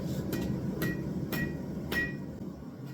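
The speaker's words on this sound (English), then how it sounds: "I use the flat face of the hammer to flatten it." A hand hammer's flat face flattens a small steel bolt into a miniature cleaver during forging: four sharp, ringing strikes about half a second apart, close and loud over a steady low workshop rumble.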